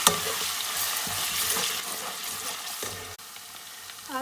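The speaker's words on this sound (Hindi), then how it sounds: "मैं इसके अंदर लहसुन पेस्ट और अदरक पेस्ट डाल दूँगी और इसको 1 से 2 मिनट के लिए फ्राई करेंगे" Garlic and ginger paste frying in a hot pan, a bright hissing sizzle that starts strong and eases slightly, with a few spatula scrapes and clinks, close and unaccompanied by talk.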